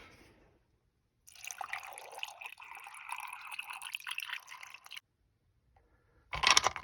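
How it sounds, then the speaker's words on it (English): Water poured into a rock tumbler barrel partly filled with peach and green aventurine stones, a steady splashing trickle for several seconds followed by a short louder clatter. "Throw in some water just below the top portion of rocks."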